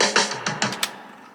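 A drum fill sample rattles through a short run of about five quick hits, a mix of punchy drum thumps and brighter cracks, then decays into a fading tail with no voices.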